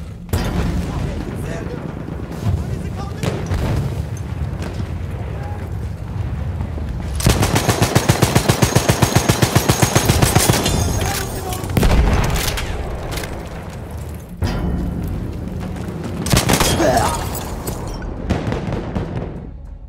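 Battlefield 1 battle with rapid machine-gun bursts and gunfire, then a heavy bomb explosion booming through the chaos, loud and dense, with a voice speaking over parts of it.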